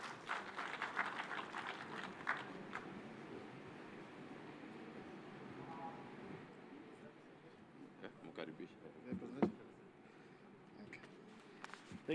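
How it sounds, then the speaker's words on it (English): Audience at a devolution conference clapping for the CEO, a burst of scattered applause at the start fading into a noisy hall murmur with sporadic thumps and handling knocks. "A clap for our CEO,"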